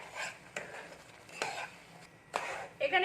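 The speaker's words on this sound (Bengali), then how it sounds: "এরকম করে একটু নাড়তে থাকবো ভালো করে" A spoon stirs a semolina and water mixture in a pot, giving several soft scraping strokes in slow rhythm, close by, with a faint sizzle or clink near the end.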